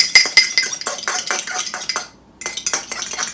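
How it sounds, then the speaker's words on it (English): Metal utensil rapidly whisking egg into pancake batter in a bowl, a dense run of quick scraping clinks against the side with a brief pause near the end before the stirring resumes. "So it's best to go ahead and mix that egg up really well now."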